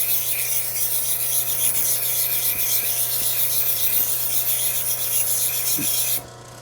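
A jade dome is sanded on 600 grit, producing a steady close grinding hiss with a low motor hum beneath, continuous until it cuts off near the end.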